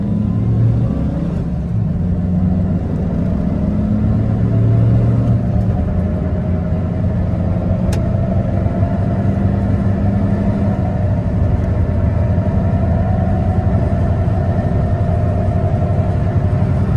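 Maruti Wagon R LXI hatchback engine pulling hard through a pickup test, a steady loud drone with a gradually rising pitch as it accelerates, no talking over it.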